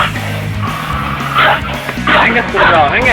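An angry dog barks loudly and close in short bursts, mixed with yips and whimpering, while a person's voice is heard urging it on.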